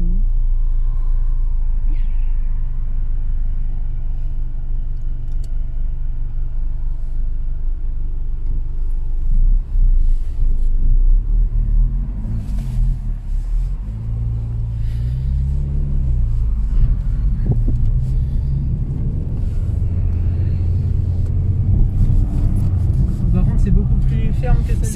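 A Peugeot 206 RC idles and warms up, a low steady engine rumble heard close by with people talking over it throughout.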